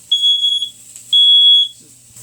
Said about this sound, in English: I think I got the smoke alarm squared away